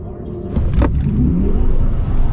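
A Tesla Model S Plaid electric car launches hard down a drag strip, producing a loud, sustained roar of tire and road rumble that swells and holds steady, with a rising whine and no engine note.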